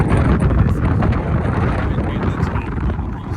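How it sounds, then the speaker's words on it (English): Strong Sahara Desert wind near Lake Iriki, Morocco roars and buffets the microphone continuously, a loud low rumble with gusty fluctuations throughout. "It's very windy."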